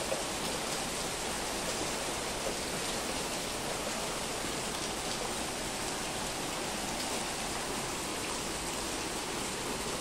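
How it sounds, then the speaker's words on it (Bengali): Steady rain falls on garden plants, a dense, even hiss of drops that holds at one level from start to finish, with no voices over it. "এই টানা বৃষ্টি হওয়ার কারণে গাছগুলোতে কি সুন্দর পানি পড়ছে।"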